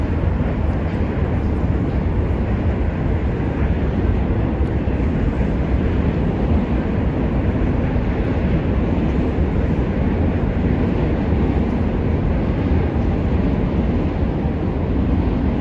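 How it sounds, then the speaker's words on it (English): Subway train crossing the Manhattan Bridge in New York City, a loud continuous low rumble and roar with windy noise, steady throughout and without speech. "the Manhattan Bridge flexes and torques up to 8 feet every time a subway train goes over it"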